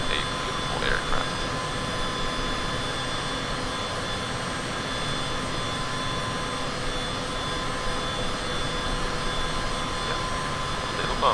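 A jet aircraft engine in Microsoft Flight Simulator, heard during a jungle takeoff flight: a steady, loud, droning roar with a constant whine that runs unbroken throughout.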